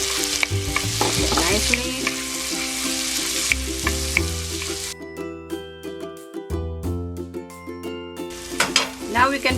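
Potatoes and tomatoes fry and sizzle in a pan while a utensil stirs and scrapes them in clattering bursts, with background music and a brief spoken word.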